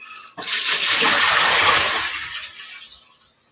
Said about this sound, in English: dump the water out again, because you don't need